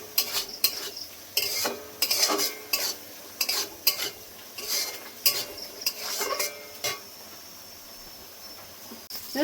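Poppy seed paste with salt and turmeric fries in oil for Bengali aloo posto. Rhythmic stirring strokes scrape the pan in regular bursts over a soft sizzle, close by.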